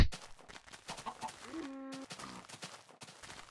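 A Minecraft chicken makes a few soft clucks amid quiet game ambience, brief and fairly faint.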